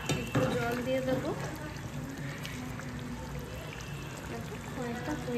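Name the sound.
water poured into meat cooking in a pan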